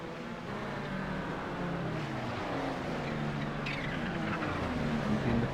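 Race car engines roaring in iRacing during a Kamel GT race at Long Beach, a steady loud drone with shifting engine tones from cars running close together in a slipstream.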